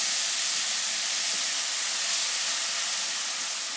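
Cut frozen tomatoes hit a hot pan for aloo matar sabzi, giving a loud, continuous, close steamy hiss that holds evenly throughout.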